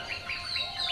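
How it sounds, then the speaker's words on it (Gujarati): Birds in a children's story scene chirp in quick, bright repeated calls, close and clear, lasting about a second; no wing flapping stands out. "અને પંખીઓ પાંખો ફફડાવી કલરવ કરતા."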